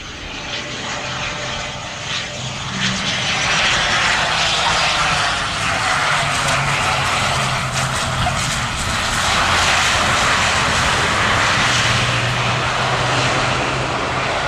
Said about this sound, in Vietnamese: mời mọi người chiêm ngưỡng hạ cánh của chiếc máy bay này trong điều kiện thời tiết gió rất lớn